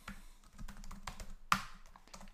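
Typing on a computer keyboard while entering a command to start a RabbitMQ server on a Raspberry Pi: a run of quiet, close key clicks ending in one sharper keystroke, with no talking.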